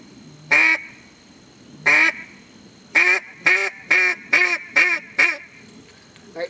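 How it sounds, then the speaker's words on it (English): Straight quacks blown on a duck call at an even tempo, each note sharply broken off: two spaced single quacks, then a quicker run of five or six, close and loud with no talking. "all I want is just straight quacks. Keep the same tempo, just where they can hear how those quacks are broken up."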